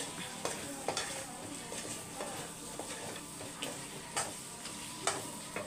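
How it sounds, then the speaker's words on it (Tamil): Chicken thokku being stirred in a pan with coriander and curry leaves, a spoon scraping and knocking in irregular strokes over a soft, steady sizzle, close by with no talking. "இப்போ வந்து கொத்தமல்லி, கருவேப்பிலை சேர்த்து நல்லா மிக்ஸ் பண்ணிக்கோங்க."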